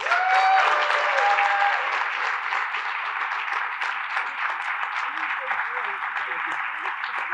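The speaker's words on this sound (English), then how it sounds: "So please, join me in welcoming Governor Kathy Hochul." An audience applauds to welcome Governor Kathy Hochul at a State of the State event. The dense, sustained clapping is loudest at the start and then holds steady until it ends.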